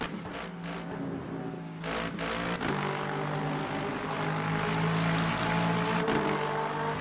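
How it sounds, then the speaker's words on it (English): A Lexus race car engine in the Le Mans Ultimate racing game heard from outside the car, a steady, dense, chunky roar that holds at a loud level throughout with slight swells and no talk. "the car sounds chunky from the outside, the Lexus"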